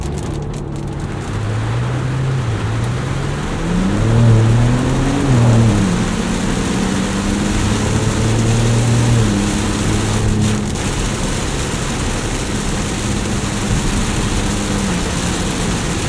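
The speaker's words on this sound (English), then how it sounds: "Alright, a lot of wetness, a lot of water here, a lot of rain." A 2024 Ford Ranger Raptor on 34-inch Yokohama Geolandar tires drives through heavy rain, with a dense, constant hiss of water spray and rain over a low engine drone that swells slightly midway.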